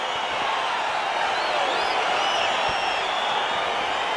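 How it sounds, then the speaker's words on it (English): Crowd noise at the start of a fight in the UFC 4 video game, a dense steady roar of a large arena audience with scattered whoops, fairly loud and continuous. "crowd getting excited as this fight gets underway"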